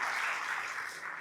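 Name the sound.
church congregation applause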